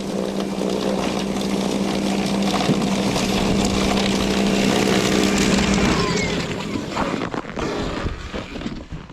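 A Greenworks 60V cordless snowblower runs steadily through light snow, a loud, continuous motor whir with a low hum that holds for most of the stretch before easing off near the end.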